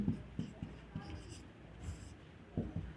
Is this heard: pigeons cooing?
no